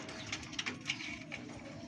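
Racing homing pigeons coo in a loft, soft low throaty coos in a few short bursts, heard close but quietly over faint background noise.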